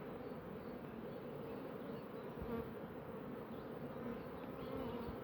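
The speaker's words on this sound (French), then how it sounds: "Il y a des jeunes abeilles, c'est bien" Honey bees at a nucleus hive hum in a dense, steady buzz that lasts without a break, close and fairly quiet, with no voices.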